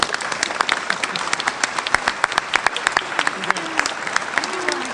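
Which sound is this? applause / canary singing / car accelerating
applause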